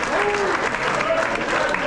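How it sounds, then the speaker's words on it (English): A crowd claps at a high school basketball banquet, a steady, fairly loud patter of many hands with faint voices underneath that holds throughout. "Everyone applaud."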